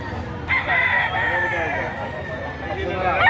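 A rooster crows at a Saturday chicken market in Lipa City, Batangas, in one long call over a busy, noisy background of market bustle.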